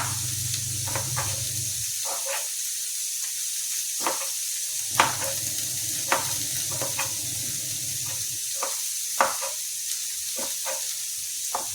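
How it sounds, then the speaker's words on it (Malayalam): Mackerel fries in a pan with a constant close sizzle, broken by regular sharp clicks and scrapes of stirring, with a low rumble in the background at times. "ഇനി നമ്മൾ ആ മീൻ വറുക്കുന്നതിൽ തന്നെ ഇത് അങ്ങോട്ടൊന്ന് ഫ്രൈ ചെയ്തെടുക്കണം"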